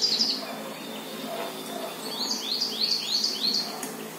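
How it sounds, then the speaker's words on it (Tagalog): A bird calls outdoors in a series of quick, high chirps, a short burst at the start and then a rapid run of repeated notes, fairly clear over a faint background hum. "Ganda ng bird, oh."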